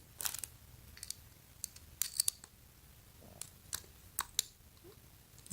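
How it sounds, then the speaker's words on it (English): A portable hand crank coffee grinder with a stainless steel body clicks against a metal piece: sharp, separate metallic ticks spaced irregularly over quiet background, close and fairly faint. "So that's why I'm making a click noise with against this metal piece right there."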